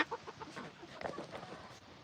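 A chicken clucks in quick, soft bursts, close by but quiet, with faint rustling that could be flapping, on a farm.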